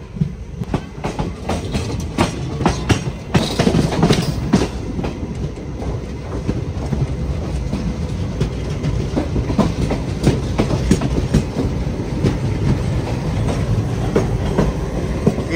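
The Konkan Kanya train rolls past on the rails at Madgaon, a loud, close, continuous rumble with rapid clickety-clack wheel beats and metallic clatter throughout.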